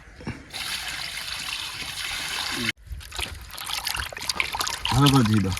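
Water running and trickling while fish is being washed in a home kitchen, steady splashing flow with a brief break midway and voices talking over it.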